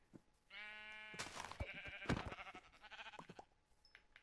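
Sheep in Minecraft bleat several times in quick succession, clear and close, a few wavering calls overlapping with short clicks and thumps of game sounds, no talking.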